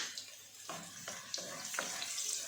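Finely chopped garlic and black peppercorns fry in ghee in a pan, giving a faint, steady sizzle broken by a few soft scrapes and stirring knocks.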